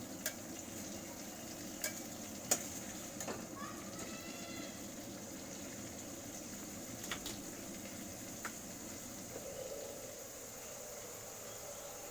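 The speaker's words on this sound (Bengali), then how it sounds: "এটাকে জাস্ট একটু কষিয়ে নেবো" Katla fish curry masala sautéed in a pan, giving a steady low sizzle with occasional scraping clicks of stirring throughout.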